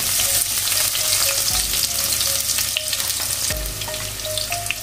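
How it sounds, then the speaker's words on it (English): Onion sautéing in a pan before beef shank goes in, a loud close sizzle with a few scraping stirs and a brief clunk midway. "Let's saute our beef shank first with onion and garlic."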